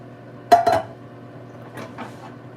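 A metal spoon knocks against a cooking pot while rice is checked: two sharp clinks in quick succession, followed by a couple of softer taps, with a low steady hum underneath and no speech.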